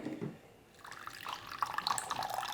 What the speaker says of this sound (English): Rice vinegar, the main base of any good pickle.